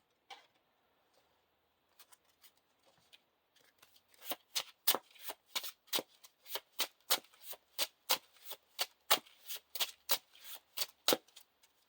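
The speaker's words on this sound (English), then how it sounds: "Shuffle the encounter discard pile into the encounter deck." A deck of Lord of the Rings card game encounter cards is riffle-shuffled up close: a few soft taps, then a steady run of quick, crisp card flutters repeating in an even rhythm, with no talking.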